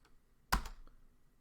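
A short burst of a few quick keystrokes on a computer keyboard typing a two-letter command, close and clear against a quiet background.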